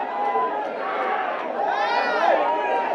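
A large crowd of fans roars and cheers inside Kamala Cinemas, a packed cinema theatre, with a steady, dense wall of overlapping voices that swells slightly toward the end.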